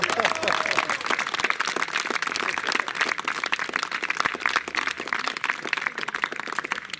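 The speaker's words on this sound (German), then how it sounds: "Einen herzlichen Applaus für unsere LaiendarstellerInnen aus der Politik" Audience applause for amateur performers drawn from local politics at a cabaret show, a steady wash of clapping lasting several seconds with crowd murmur and a voice briefly audible underneath.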